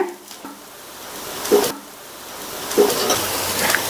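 Mini rava uttapam made from semolina sizzles softly in oil on a pan after flipping, a steady low frying hiss with a couple of brief louder crackles and spoon scrapes.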